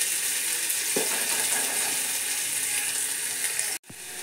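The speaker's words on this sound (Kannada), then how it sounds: "ಸ್ವಲ್ಪ ಫ್ರೈ ಆಗಬೇಕು, ಬ್ರೌನ್ ಕಲರ್ ಬರಬೇಕು ಆನಿಯನ್." Onions frying in a pan toward browning, a constant close sizzle with a brief stir clink near the start and a sharp break near the end.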